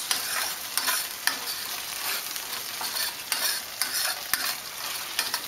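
Onions and soy sauce frying in a hot pan, a steady close sizzle with scattered sharp crackles and stirring scrapes throughout, no voices.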